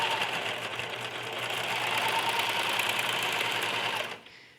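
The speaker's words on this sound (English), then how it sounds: "I like to use my serger to sew those together so that we have neat lines" Serger stitching doll pajama fabric, running fast and steady at close range for about four seconds before stopping abruptly.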